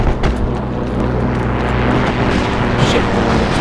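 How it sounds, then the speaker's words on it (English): Fighter planes roar overhead in the World War II shooter Heroes and Generals, a loud, continuous engine drone that fills the scene without a break. "Look at these planes, man."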